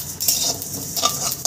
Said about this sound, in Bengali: সমস্ত মশলা আমি একবারেই দিয়ে দিয়েছি। আমি লাল করে কালারটা চেঞ্জ না হওয়া পর্যন্ত ভেজে নেব।